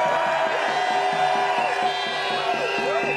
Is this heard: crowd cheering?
yes